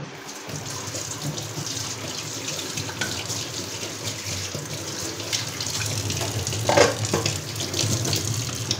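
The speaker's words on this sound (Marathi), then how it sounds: "अजून थोडं त्याच्यामध्ये पाणी टाकायला लागेल." Water runs steadily from a kitchen tap for a pot of chickpea and pea curry, a continuous close splashing gush with slight changes in flow and no talking.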